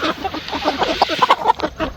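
Broiler chickens cluck busily at feeding time, a close flock giving rapid overlapping clucks and short calls in an uneven, chattering rhythm.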